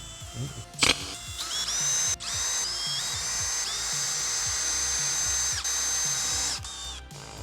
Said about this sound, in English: we can now drill all the other ones out and repeat for the next 15 holes